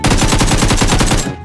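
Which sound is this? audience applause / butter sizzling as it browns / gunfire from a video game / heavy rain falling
gunfire from a video game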